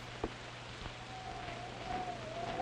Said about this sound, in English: Wait, how can it be snowing and raining?